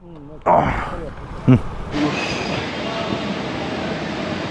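A Purple Line metro train at Kadugodi Tree Park station rumbles and hums steadily after a couple of sharp bangs, with a brief voice early on and a high whine throughout.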